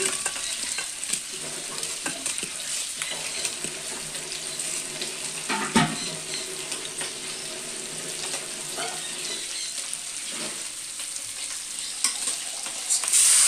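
Shrimp and onions fry in a pan while being stirred, a dense continuous sizzle broken by frequent clacks and scrapes of the spoon, close and fairly loud, with no voices.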